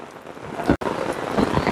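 Steady rain falls in Batticaloa during a long spell of wet weather, a continuous broadband hiss of drops on surfaces with one very brief dropout partway through.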